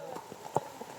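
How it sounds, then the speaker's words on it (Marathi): A horse's hooves clop along a path at the Matheran hill station in the monsoon, giving a few scattered, moderately loud hoofbeats against faint background chatter. "हा घोडा"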